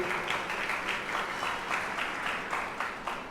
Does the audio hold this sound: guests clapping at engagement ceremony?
yes